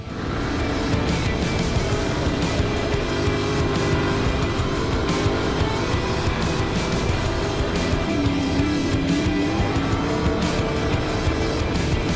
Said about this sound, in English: we're just going to go out and start doing some reasonably fast practice laps